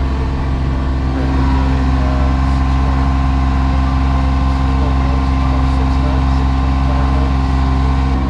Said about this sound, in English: The engine is running really, really well